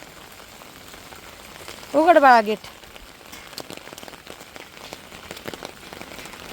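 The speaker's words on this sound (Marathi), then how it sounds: "असा पाऊस आहे ना पहिल्यांदा आलाय मे मध्ये" May rain patters steadily on surfaces in a village yard during a heavy downpour, a continuous fine hiss with scattered drops, briefly interrupted by a short spoken call.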